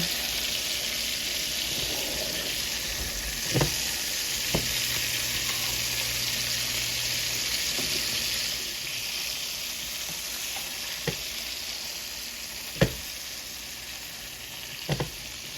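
A cod fillet frying in oil for garlic butter cod, a steady hissing sizzle throughout with a few sharp clicks and taps of utensils, no talk.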